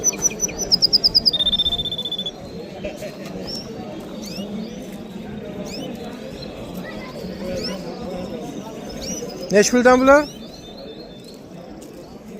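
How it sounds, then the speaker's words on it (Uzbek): Canaries at a bird market in Samarkand give bright, rapid trilling chirps, clustered near the start and again briefly near the end, over a steady crowd murmur with people talking close by. "Mana shunaqa qanarikalarni zo'ri."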